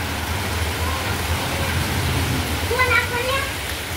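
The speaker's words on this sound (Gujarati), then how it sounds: "જો વરસાદ ચાલુ થઈ ગયો છે" Steady rain falls outdoors in a continuous hiss, moderately loud, with faint background sounds in the last second.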